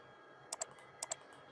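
Computer keyboard typing while entering a field name in Power BI: two quick pairs of light clicks, close and crisp over quiet background hiss.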